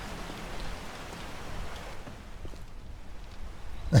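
Steady rain falls in 7 Days to Die (Alpha 16) around a player sheltering under cover, a dense, even patter that holds throughout with no voices.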